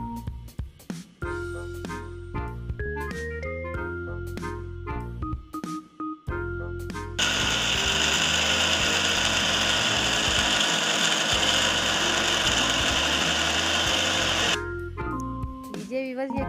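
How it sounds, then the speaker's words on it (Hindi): A kitchen grinder runs in a loud steady whir lasting several seconds while grinding herbs, preceded and followed by short rattling pulses and clicks of handling. "ऐसे ही ग्राइंडर में डालना है। और इसे कर लेना है ग्राइंड।"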